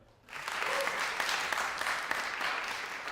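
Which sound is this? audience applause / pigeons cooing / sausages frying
audience applause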